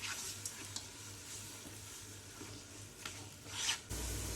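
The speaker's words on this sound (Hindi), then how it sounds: "इसे भी हम अच्छे से गोल्डन ब्राउन होने तक हम इसे फ्राई करेंगे, प्याज को" Chopped onions fry toward golden brown, sizzling steadily in a hot pan, with occasional scraping and stirring sounds from a utensil; no voices.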